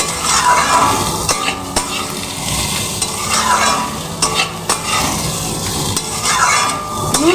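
Papaya and potato pieces being stirred in a hot pan with salt and turmeric, continuous loud sizzling with repeated scraping strokes and a few metallic clacks of a spatula against the pan.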